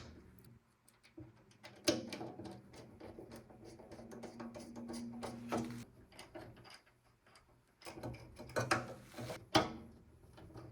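Long screws being tightened through PC case fans during a desktop computer build, heard as quiet close-up clicking, ratcheting turns and small metallic taps in bursts, with a busier cluster near the end and no speech.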